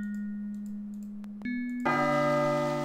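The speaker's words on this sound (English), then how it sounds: "you do get a gong sound every time you try to use the flint with the... any of these, really." A gong-like chime in the DOS video game Realms of the Haunting, triggered by using a flint on an item: a steady tone that shifts pitch, then a bright, ringing metallic strike that sustains to the end.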